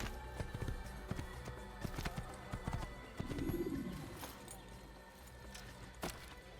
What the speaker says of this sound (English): Can't a man just ride his horse nearby this military encampment?